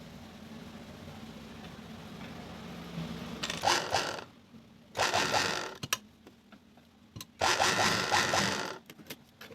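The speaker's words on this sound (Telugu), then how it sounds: "డబుల్ స్టిచ్ చేసుకోవాలండి ప్రతిదానికి కూడా" A domestic sewing machine double-stitches the seams of a blouse in three separate bursts, each run about a second long with quieter pauses and small clicks between them, close up with no talk.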